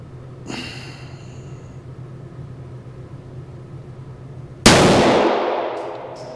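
After a faint knock near the start, a Smith & Wesson CSX 9mm micro pistol loaded with a 10-round magazine fires one loud, sharp shot at 5 yards that rings out and fades.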